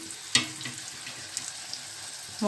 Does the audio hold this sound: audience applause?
no